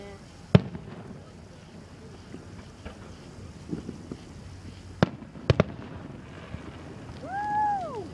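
Fireworks go off outdoors as a few sharp, distant bangs, a single one early and then a quick cluster of two or three, over quiet wind noise, with a voice whooping near the end.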